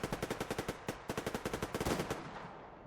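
Rapid bursts of automatic gunfire in the video game Survarium crack in quick succession, one short pause midway, then the volley trails off into a fading echo.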